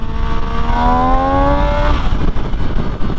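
An MV Agusta Dragster motorcycle engine revs hard in first gear from around 8,000 RPM, its pitch climbing steadily for about two seconds before the throttle drops and it settles back to a rough, loud idle.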